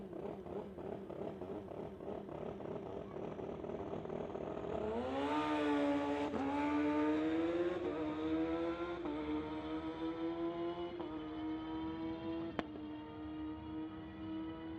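A 2005 Suzuki GSX-R1000 Turbo motorcycle makes a street-legal drag racing run, its engine droning near at first, then rising through several gear shifts to a loud, sustained high-revving wail as it pulls away.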